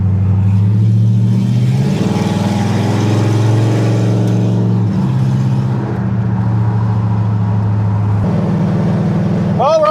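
An LS-swapped 1971 Chevrolet C10 pickup drones along the highway, its engine a loud, steady low rumble with shifting tones and road roar throughout, close and continuous.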